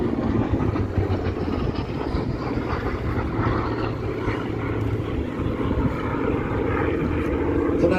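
Propeller aircraft flying at the Central Coast Airfest 2023 airshow, a steady droning engine roar sustained throughout at moderate distance, with no talk in the clip.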